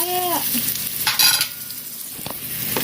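Food frying in hot oil for a vegetable and salmon lunch, a loud steady crackling sizzle with a brief whistling tone at the start and sharper spattering bursts midway, no talking.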